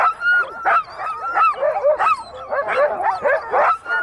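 A team of sled dogs barks, yips and whimpers in a dense, excited chorus, the calls overlapping continuously and sounding close and loud.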